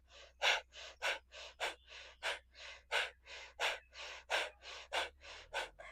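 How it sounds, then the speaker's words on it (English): Rhythmic, forceful breathing during a yoga exercise comes in quick, evenly spaced bursts of close, loud air, about two or three per second, with no talking. "We want to find a rhythm to our breath. So you can see and feel the belly moving, really expanding. Exhale,"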